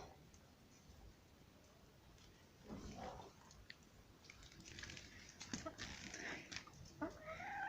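Chickens clucking softly outdoors, scattered short calls rising toward the end over a quiet background with faint pecking sounds.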